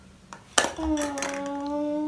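A toy kitchen pot is handled during play, with a sharp clattering clink partway through followed by a sustained metallic ringing tone, close and moderately loud.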